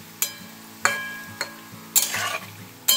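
Palm fruit fritters fry in a wok under a soft background sizzle, broken by several sharp scraping clinks of a spatula stirring against the metal at irregular intervals, close by.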